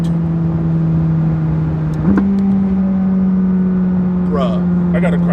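McLaren sports car engine holding a steady, loud drone as it accelerates, the pitch stepping up once midway, with a few faint crackling exhaust pops near the end under a little talk.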